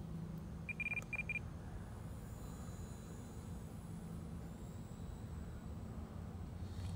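A few short electronic beeps from an RC transmitter throttle chirp early on, quiet against a steady low hum of background noise.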